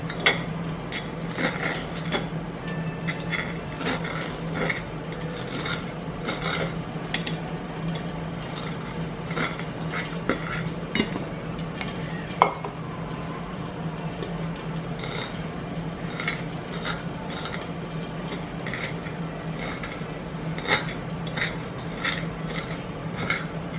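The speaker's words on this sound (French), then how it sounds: "Donc là, je coupe mes petites herbes." Fresh chives being cut in a home kitchen, a steady run of light knife taps and clicks against a board with occasional scraping and clinking, heard close over a constant low hum and no talk.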